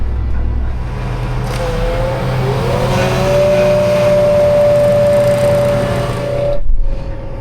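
The hydraulic fan on an air seeder spools up in a farm field, a loud, steady drone that climbs into a rising whine and holds there for several seconds before it drops away near the end.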